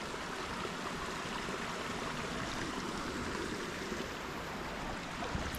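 A small creek on rural family property flows steadily, a broad continuous rush of water with no pauses, fairly close and alone without any voices.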